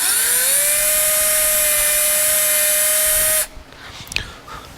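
A high, loud whining drill with a small bit runs steadily through metal for a few seconds, then stops abruptly, leaving faint rustling and a light clink.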